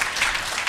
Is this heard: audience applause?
yes